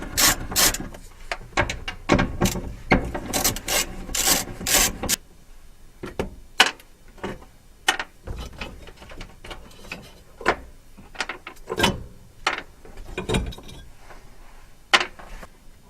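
A ratchet clicks in quick loud bursts while unbolting 8mm nuts from a fuel pump assembly on a 2013 STi, followed by sparser metallic clicks and taps spread over the rest of the stretch.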